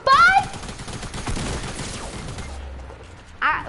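Rapid Fortnite gunfire crackles in a close burst of shots, fading out before a short loud exclamation from a player over the game audio.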